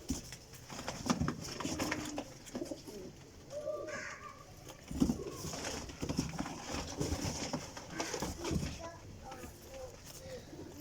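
Teddy pigeons coo in low repeated calls near the microphone at a pigeon loft, while someone talks over them throughout.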